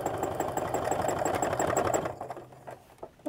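A sewing machine stitches free-motion quilting at a rapid, steady rhythm with a mechanical whir, close by, then stops abruptly partway through, leaving a short quiet stretch with a few small clicks; the stitching has bobbin trouble.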